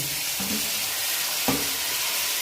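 Tomatoes and chillies fry in a pan while rice with potatoes and peas is being cooked, giving a loud, continuous sizzle with a couple of brief stirring scrapes and no talk.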